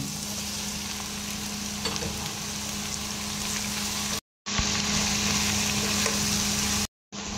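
Shrimp sizzles in a pan with browned onion, a steady close frying hiss that continues unbroken apart from two brief cuts to silence.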